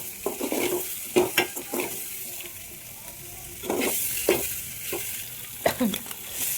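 Boiled eggs fry with turmeric, salt and chili powder for egg biryani, an intermittent scrape of stirring over a soft sizzle in a pot.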